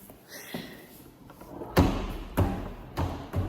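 A door in an apartment kitchen knocks shut, giving several dull thuds and bangs that grow louder toward the end over quiet room noise.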